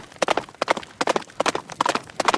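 Horse hooves gallop in the Attack on Titan Last Breath game, a fast, steady clip-clop of repeated hoofbeat clusters, loud and close.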